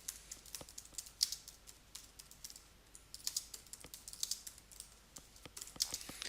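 Typing on a computer keyboard, a quiet, close run of light keystroke clicks in uneven bursts with a few sharper taps mixed in and no voice.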